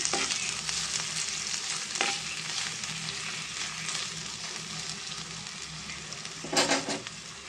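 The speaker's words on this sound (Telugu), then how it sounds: "ఆయిల్ మరిగింది వేసేద్దామండి కొంచెం ఫ్రై అయ్యేదాకా కలుపుకుందాం మనం" Chopped onions and cumin fry in a spoonful of hot oil alongside deep-fried okra, giving a constant close sizzle with occasional stirring scrapes and a brief louder clatter near the end.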